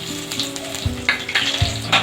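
Bay leaves, cinnamon, cardamom, cloves and cumin seeds fry in oil over medium heat, a loud, close crackling sizzle with a few sharp pops and bursts over a steady background hum. No voices.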